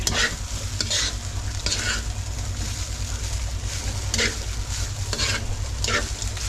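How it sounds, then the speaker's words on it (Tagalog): Rice is stir-fried in a pan, with a continuous sizzle and repeated scraping, tossing strokes of the spatula that come at irregular intervals, close and fairly loud, with no talking. "Kaya kailangan sangag na lang natin para makain."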